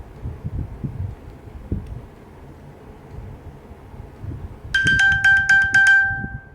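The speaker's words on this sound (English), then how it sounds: "whenever you pin your device with your Apple Watch, it actually plays a new sound, which sounds like this" Quiet low rumbling gives way near the end to a loud, bright electronic chime from an iPhone, a rapid pulsing ping with a sustained tone lasting about a second, triggered from an Apple Watch to locate the phone.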